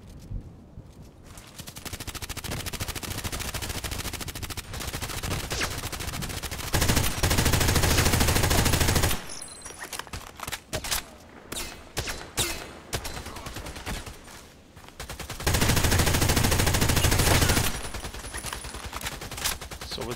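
Gunfire from an M4A1 Custom rifle in the shooter game Contract Wars, with sustained automatic bursts and scattered single shots, loud and dense, some of it more distant, with no talking.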